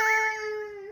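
A single drawn-out cat meow, close and clear, with a wavering pitch that fades at the end; no one talks.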